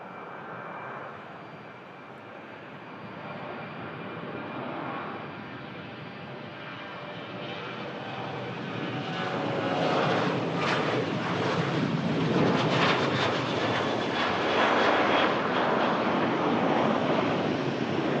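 A Jet2 airliner passing at Manchester Airport, a steady broadband jet roar that swells louder in the second half as it goes by, with some wind noise over the microphone.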